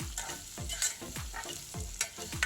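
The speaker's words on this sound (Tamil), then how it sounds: "ஆனியன் நல்லா வதங்கி கோல்டன் கலர் ஆகிற வரைக்கும் வதக்கணும்." Sliced onions fry in hot oil for a quick kurma to go with dosa, with a steady sizzle and repeated rhythmic scraping strokes of a spatula stirring the pan, close and fairly quiet.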